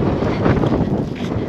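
Strong wind buffets the microphone outdoors on a snowy early morning in Finland, a steady, loud, broadband roar that swells and dips for the whole moment with no voices.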